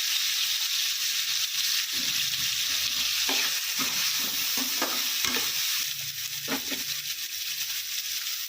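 Onion and tomato with turmeric and salt sauté in a pan, giving a steady soft sizzle broken by several scraping stirs of the spoon throughout.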